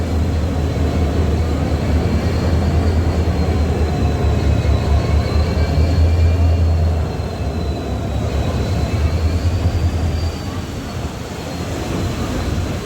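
A train rolls into a station with a loud, continuous rumble of wheels and carriages and a faint high squeal drifting above it, the sound easing slightly toward the end.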